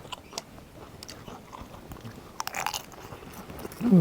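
Fried crab is bitten and chewed up close, with sharp brittle crunches scattered through quiet chewing and a louder burst of crunching at the end.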